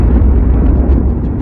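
A huge explosion sound effect, standing for the birth of the Sun, gives a loud, deep, rumbling roar that holds steady and then slowly eases off.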